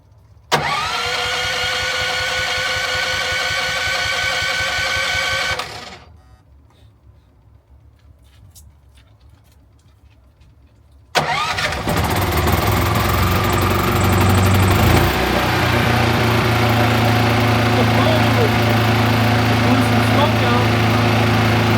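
An onboard RV generator switched to run on gas fires up and runs loud, a steady mid-pitched engine drone that cuts out briefly, then restarts and settles into a constant close hum.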